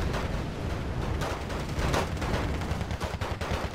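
Sustained long-range gunfire from an open-field firefight in the Wargame Red Dragon strategy game, dense crackling bursts of rifle and machine-gun fire rolling on without pause, with a heavier thump near the middle.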